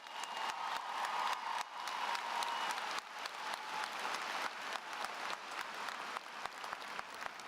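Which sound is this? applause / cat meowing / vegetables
applause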